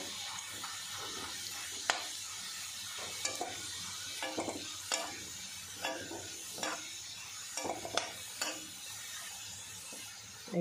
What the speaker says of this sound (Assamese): মোৰ নহৰুখিনি ভাজি হৈ গ'ল